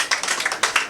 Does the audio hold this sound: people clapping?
yes